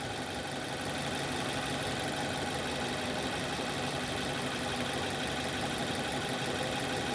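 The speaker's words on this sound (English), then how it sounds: "I'll just go back and rev the engine again." A car engine running steadily with a constant droning hum during cooling system bleeding, a continuous even tone with no clear rise in revs, alone without talk.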